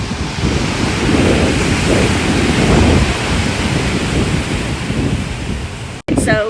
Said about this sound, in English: So this is the gorgeous ocean. The tide is high right now,